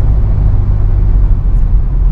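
A Mahindra Scorpio N on the move gives a loud, steady low engine rumble with road noise that holds evenly throughout, with no voices.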